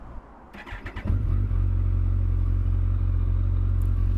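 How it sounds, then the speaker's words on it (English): A Kawasaki ZZR1400 motorcycle starting up: a brief clattering crank of the starter, then the engine catches and settles into a loud, steady low idle rumble close by. "I'm just going to turn the bike on one last time"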